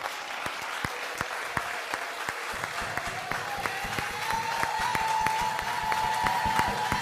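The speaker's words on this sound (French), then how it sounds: "Acclame très fort la parole de Dieu." A church congregation claps steadily and loudly in sharp, rapid overlapping claps, joined by a rising sustained voice or cheer partway through, filling the room.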